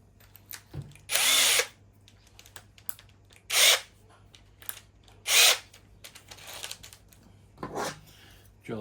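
A power drill whirs in four short, loud bursts separated by pauses while wiring a 12-volt power box, with faint handling clatter between them and no talking.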